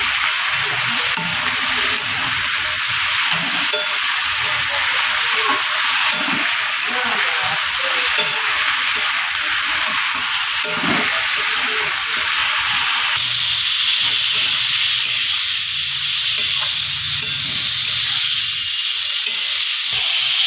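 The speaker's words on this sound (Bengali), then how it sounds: "ভালো করে নেড়ে চেড়ে দিচ্ছি" Papaya shukto curry fries in a pan as it is stirred, a loud, continuous sizzle with soft scraping turns, its hiss changing tone partway through.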